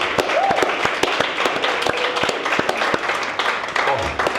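Applause for Merino in a kitchen studio, a short run of sharp, separate hand claps from a small group nearby, with talk and laughter running under them.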